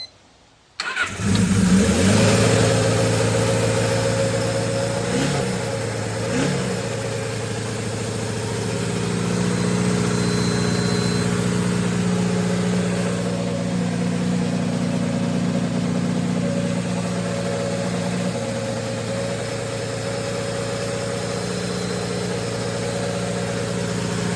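A Suzuki GS550 motorcycle engine cranks and catches, then settles into a steady, loud rumbling idle that rises a little and holds for the rest of the stretch.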